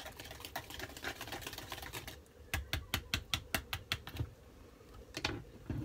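Egg and melted butter are mixed in a bowl inside an RV kitchen, giving quick, fairly faint clicking taps in an irregular rhythm, with a short burst again near the end.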